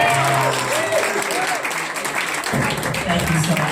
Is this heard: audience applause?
yes